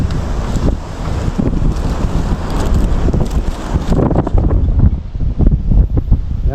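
Strong, steady wind roars and buffets the microphone throughout, with a rushing, gusty texture and no voices.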